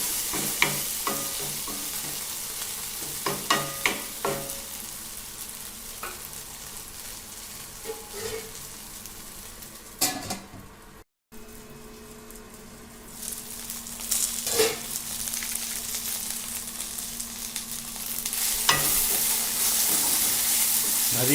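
Okra and tomato fry in a pan, sizzling steadily and close with repeated scraping stirs, a brief gap midway, then the frying hiss rising again.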